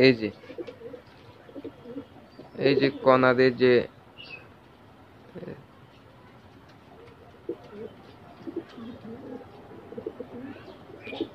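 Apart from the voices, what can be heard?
pigeons cooing in their coop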